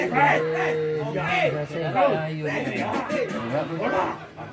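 Cows moo in drawn-out, rising and falling calls near a local youth football match. Nearby people chatter and laugh over them.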